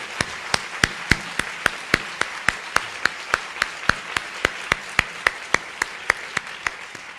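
Audience applause at an arts luncheon comes through as a steady series of sharp, evenly spaced claps, fairly quiet and regular, like a few people clapping in rhythm.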